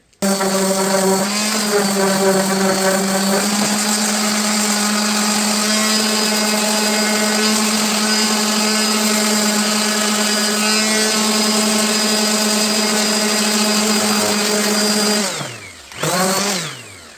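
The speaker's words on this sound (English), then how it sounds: "Now we'll hit that with a sander, make it look a little nicer" A power sander smoothing a routed wooden piece for a solar deck light runs loud and steady with a strong constant whine, then winds down near the end, briefly restarts and stops.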